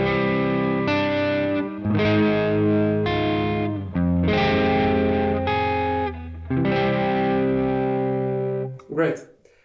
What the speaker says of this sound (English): we'll try to create a simple melody using the ascending scale tones